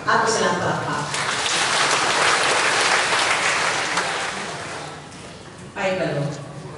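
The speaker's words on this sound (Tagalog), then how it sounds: "Ato silang palakpak." A church congregation applauds during a parish Mass, a loud sustained wash of clapping that swells, holds for several seconds, then fades as a voice resumes speaking over the room.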